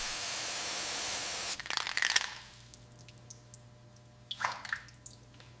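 Contact cleaner sprayed onto a wiring connector during a 1969 Chevrolet Camaro Yenko SC restoration: a loud, steady hiss of roughly one and a half seconds, followed by quieter wet squishes and drips close by.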